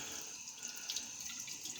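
Tap water runs onto a synthetic shaving brush in a steady, quiet splashing hiss with small irregular spatters, close by and alone.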